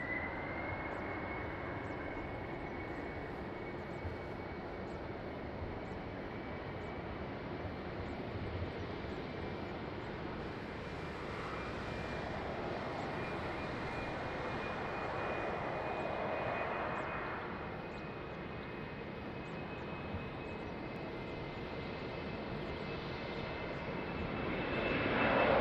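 Airliner engines roar steadily during takeoffs at Lisbon Airport in the rain, a continuous broad rumble with a thin high whine that swells and fades as aircraft pass, then builds again at the end.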